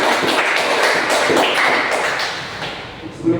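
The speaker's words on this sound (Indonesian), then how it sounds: "Mari kita beri aplaus untuk pertemuan kita." A class applauds at the end of a session, with dense, fairly loud clapping that fades toward the end under a hint of voices.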